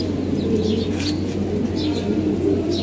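An old-breed baga-coloured pigeon in molt coos softly, its low murmurs running over a steady background hum with no voices.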